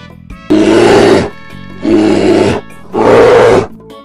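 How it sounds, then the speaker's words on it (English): A bear gives three loud, close, drawn-out roars. Each lasts under a second, and short silent gaps separate them. "Bear."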